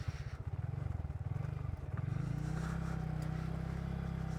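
A Honda Grom motorcycle rides off-road along a muddy byway, its small engine pulsing and revving steadily up close, the note rising and settling into a constant drone as the bike bounces over rough ground.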